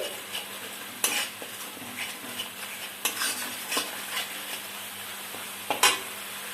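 Spices with ginger, salt, turmeric and chili powder frying in a pan for a spicy fish curry, a soft continuous sizzle broken by sharp scrapes and clinks of a stirring utensil, close and quiet.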